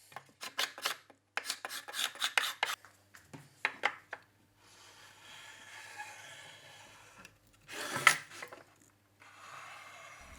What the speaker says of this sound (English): After the glue is dried, I remove the excess using a scraper.